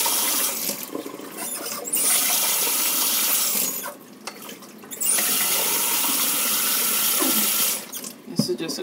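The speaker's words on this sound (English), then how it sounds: "Let's rinse this board off a little bit." Water pours and splashes while a makeup brush cleaning board is rinsed, in two long steady bursts of running water separated by brief quieter pauses, close and fairly loud.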